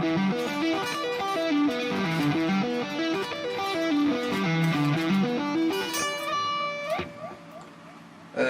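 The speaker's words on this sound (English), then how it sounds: "you can kind of extend it further and make it into a five string sweep" Five-string sweep-picked arpeggio on electric guitar with a Dorian flavour, fast rippling cascades of notes rising and falling continuously through distortion and effects, ending in a sustained ringing chord that fades, played alone without talk.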